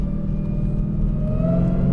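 A 1,000 horsepower Dodge Challenger Hellcat launches on a gravel-strewn back road, its engine letting out a close, loud, rising roar with a whining overtone that builds over two seconds.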